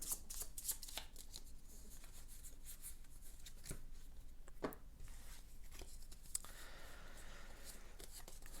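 A deck of cards being shuffled during a solo tabletop deck-building game, with repeated soft riffling and rubbing bursts and a few sharper card snaps, close and quiet with no talking.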